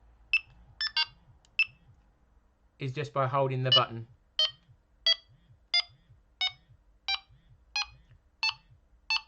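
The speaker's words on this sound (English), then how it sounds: "That's just to show you there's 8 beep speeds." A Delkim Rx-D bite alarm receiver sounds a series of short, high electronic beeps at a steady, evenly spaced pace. Someone speaks briefly partway through, and the beeping then continues alone.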